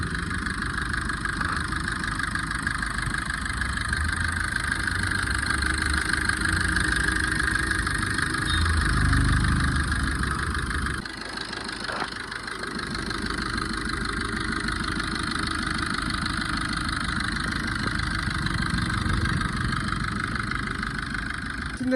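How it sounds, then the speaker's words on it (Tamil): A Maruti Suzuki Swift Dzire engine idles after a head gasket repair, a steady, close, continuous hum with a brief dip near the middle, and no one speaks. "இந்த ஸ்விஃப்ட் டிசைரோட இன்ஜினை வந்து பார்த்திங்கன்னா நான் ஸ்டார்ட் பண்ணிட்டேன்."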